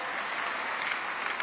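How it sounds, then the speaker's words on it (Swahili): An audience of village elders at a State House meeting in Nairobi claps together in a brief, dense burst of applause, steady and moderately distant with no voices. "Pigieni hawa makofi."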